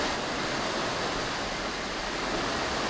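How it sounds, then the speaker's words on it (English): A surge of water released from an Erie Canal lock roars steadily and loudly, a dense continuous rush with no breaks and no voices. "It's a big surge of water going down the canal, isn't it?"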